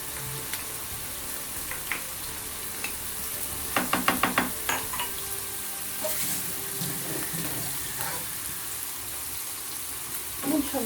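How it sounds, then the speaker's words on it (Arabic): Sliced peppers frying and being stirred in a pan with herbs, a steady soft sizzle broken by a cluster of quick utensil scrapes and clinks midway and a few more taps near the end. "ونحركو الفلفل ديالنا"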